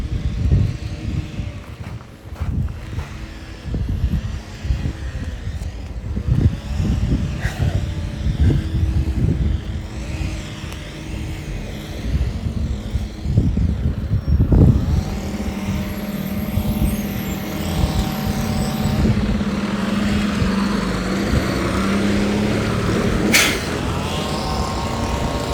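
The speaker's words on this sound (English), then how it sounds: "Sounds of Albuquerque. Small motors, big diesel truck motors." In Albuquerque, rumbling engines idle and pass at a distance, a mix of small buzzing motors and heavier diesel truck drones, with intermittent thumps and clatter.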